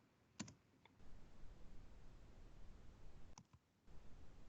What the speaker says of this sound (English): You can also start typing names